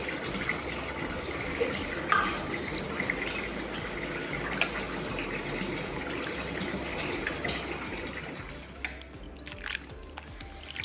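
Tap water runs steadily over mangoes being rinsed in a kitchen, a continuous close splashing wash with a few small clinks, fading slightly near the end.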